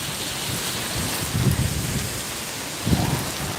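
Heavy rain pours down steadily in Singapore in a dense hiss, with low rumbles of thunder rolling in twice beneath the downpour.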